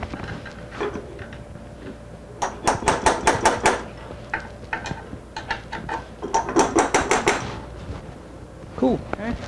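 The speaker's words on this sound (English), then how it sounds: "So now we've got a 1/4 inch transfer punch, and just take our, slip it into there and give it a bit of a tappy tap tap." A hammer taps a 1/4 inch transfer punch into a row of holes during a mini CNC build in a shop, in quick bursts of sharp metallic strikes separated by pauses.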